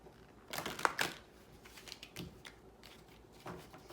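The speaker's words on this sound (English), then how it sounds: "It's late, I'm having trouble shuffling." Playing cards are riffled and shuffled in a few quick bursts of soft flapping, close and fairly quiet.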